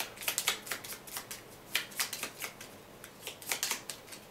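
A deck of cards is shuffled by hand during a tabletop card game, producing close, crisp riffling bursts in quick irregular clusters with short pauses between them. No one speaks.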